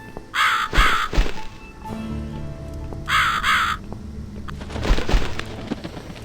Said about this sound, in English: So I'm pretty sure you follow the crow.